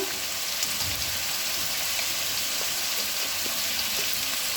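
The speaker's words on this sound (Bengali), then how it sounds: "আলুগুলো দিয়ে দিচ্ছি ভাজার জন্য।" Potatoes with salt fry in hot oil in a pan for a Bengali prawn dish, giving a steady, even sizzle throughout without talk.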